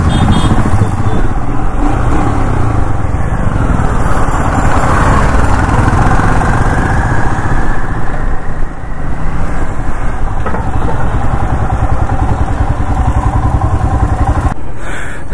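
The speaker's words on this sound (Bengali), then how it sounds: "সো হিমালয় রাইড তোমাদেরকে দেখালাম ছোট করে ভিডিওতে।" A Royal Enfield Himalayan 450 motorcycle on a test ride, its engine droning loud and constant with wind and road noise throughout, rising and easing slightly without pause.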